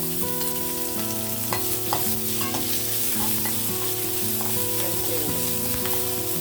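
Green chillies, curry leaves and coriander sizzle loudly in hot oil for ajwain rice, a dense continuous crackle close to the pan with sharp pops and a few clinks of stirring throughout.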